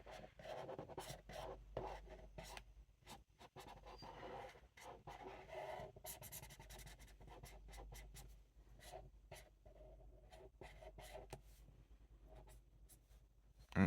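Marker tips drag and scratch across paper up close, soft and quiet, in short strokes with small gaps between them.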